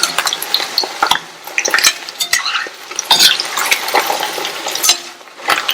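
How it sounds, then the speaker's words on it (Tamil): Cauliflower pieces frying in oil over a medium flame as they are tossed and stirred in a pan, with loud, close, irregular scraping and clattering strokes over a steady sizzle, no talk. "மீடியம் ஃப்ளேம்ல வச்சு நல்லா இந்த மாதிரி திருப்பி விட்டு காலிஃபிளவர் நல்லா மொறுன்னு வெந்ததுக்கு அப்புறமா எடுக்கணும்"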